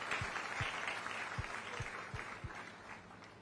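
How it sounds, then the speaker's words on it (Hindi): Applause from attendees at a government event on unemployment allowance distribution in Bhilai-Durg, a faint, distant wash of clapping over a hall's ambient noise, with a few heavier low thumps scattered through. "उद्बोधन का लाभ दें और तालियों से स्वागत करें"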